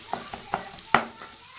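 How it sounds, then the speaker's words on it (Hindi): Onions fry on a high flame, with a soft sizzle under four quick stirring scrapes of a spoon, the last one loudest, heard close. "आपने इसको अच्छे से जो है वो प्याज को भून लेना है।"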